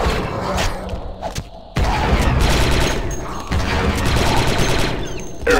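Rapid, dense bursts of blaster fire in a firefight in the video game Star Wars Republic Commando, loud and near, in two sustained volleys split by a short lull, with thuds and mechanical clanks mixed in.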